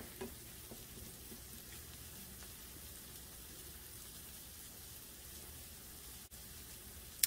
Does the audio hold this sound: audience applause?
no